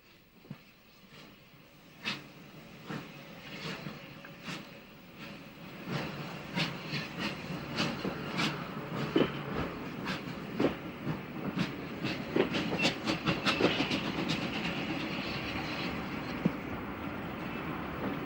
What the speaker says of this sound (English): City of Wells now pulls its train into a siding.